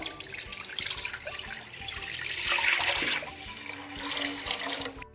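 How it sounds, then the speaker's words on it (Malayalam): Water runs and splashes steadily into a pan on a home stove as rice is prepared for a parda biriyani. A loud rushing swell builds in the middle, then tapers and cuts off, with light clinks and no talking. "അപ്പോൾ ആദ്യം നമുക്ക് വെള്ളം ചേർത്ത് കൊടുക്കാം"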